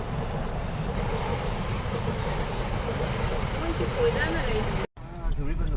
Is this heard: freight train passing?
yes